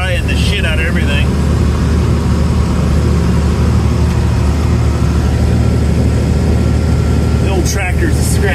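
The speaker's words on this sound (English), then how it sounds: "The old tractor's scratching." An old tractor engine runs on a farm, a steady low droning rumble that stays constant throughout, with brief faint voice-like sounds near the start and end.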